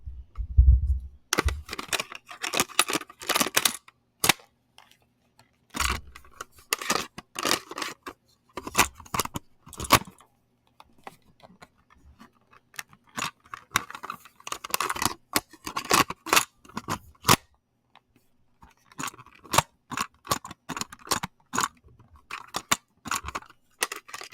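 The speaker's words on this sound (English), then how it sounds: "the sound of a tape going into the tape player" Repeated sharp plastic clicks and clatters, quick and close, with brief pauses between bursts, as a cassette tape is handled and pushed into a tape player.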